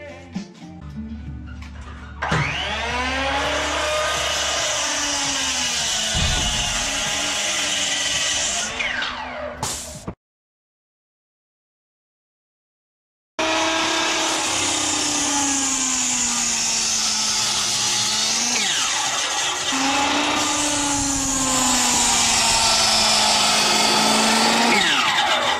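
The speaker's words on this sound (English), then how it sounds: "I like to finish the cuts with the reciprocating saw." Reciprocating saw cutting stair framing lumber, a loud sustained buzzing motor with shifting pitch as blade loads, running nearly continuously with a brief silent pause midway before resuming.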